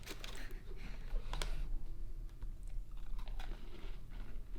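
A person bites and chews a new s'mores-flavored cookie, with soft crunching and wet mastication repeating up close over a low steady hum, and no talking.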